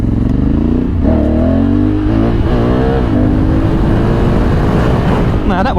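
A Honda Africa Twin motorcycle engine revving hard at full throttle, a loud close rising roar with a buzzing pitch that climbs and falls, under steady wind noise.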